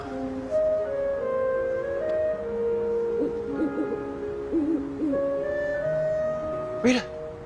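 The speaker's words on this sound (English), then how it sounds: "An owl." An owl hoots once, a short rising call standing out above a steady wash of background music and ambient sound.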